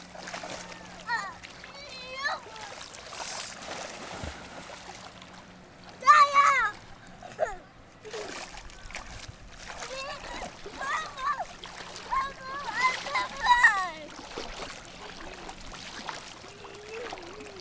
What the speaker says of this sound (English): show me how do you swim?